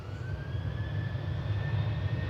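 A Jet2 passenger jet on flight 903 to Thessaloniki at Manchester Airport, a continuous loud engine roar with a strong low rumble and a thin steady whine above it, sustained without a break.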